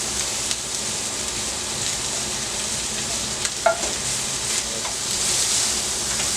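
Mushroom Swiss stuffed cheeseburger patty frying in a pan, a steady close hiss of sizzling fat with occasional soft scraping taps, loud and continuous with no talk.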